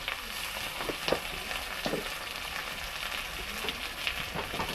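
Ginger paste hitting hot oil in a frying pan while cooking a mrigal fish curry with brinjal, giving a steady close sizzle broken by a few sharp spatula scrapes and pops.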